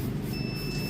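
Steady electronic buzzer tone from a Predator welding machine under test, holding constant for the whole second over a loud background hum, with no speech.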